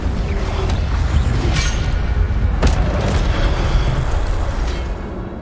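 A blast from the Incendio fire spell in Hogwarts Legacy: a loud, sustained roar of booming bursts with sharp crackling hits, rumbling continuously throughout.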